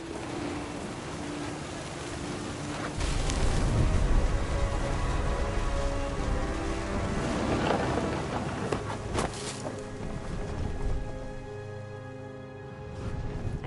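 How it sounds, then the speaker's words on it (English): Rain and rolling thunder in the video game What Remains of Edith Finch: a heavy rumble swells near the start and fades under continuous rain hiss. "The thunder sounded much too close and full of angry power."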